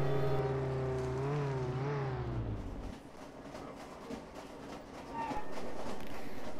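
A train rumbling past in Roblox Jailbreak, starting with a gliding, horn-like tonal sweep and then steady rolling rail noise, loud and continuous throughout.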